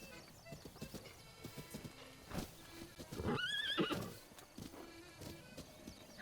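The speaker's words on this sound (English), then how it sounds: "I just wanted to pet the horse." A horse in Zelda: Breath of the Wild whinnies once, a rising and falling neigh in the middle of soft hoof clip-clops and light ambient game sounds.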